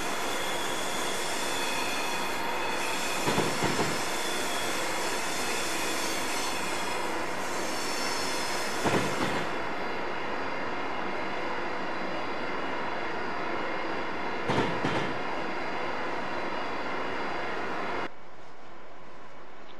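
An Acela Express train in Train Simulator 2015 runs with a steady electric drone and rolling rumble, broken by a few brief louder bursts, before the sound drops away abruptly near the end.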